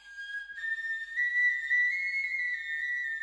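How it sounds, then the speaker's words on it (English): Replica mammoth bone flute playing a sustained, breathy melodic line with a few held pitched notes, clear and fairly quiet with a short break near the start. "It's a performance using a replica of a mammoth bone flute"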